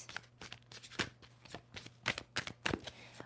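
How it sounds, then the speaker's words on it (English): A deck of tarot cards is shuffled by hand close to the microphone, a series of rapid riffling bursts and soft slaps at an irregular rhythm, with a faint hum underneath. "2 more shuffles."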